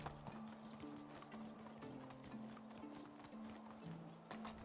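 A horse gallops in the video game Medieval Dynasty, rapid rhythmic hoofbeats clip-clopping over a faint, steady in-game musical tone.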